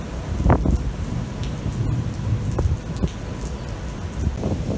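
A thunderstorm at sea, seen from a cruise ship: heavy rain hisses steadily while several sharp thunder cracks and rumbles break through, loud and close, with no talking.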